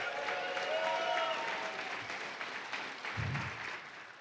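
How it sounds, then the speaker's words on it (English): Audience applause at a startup week kickoff keynote, a steady wash of clapping from a large crowd lasting several seconds and slowly thinning toward the end. "Give her a round of applause."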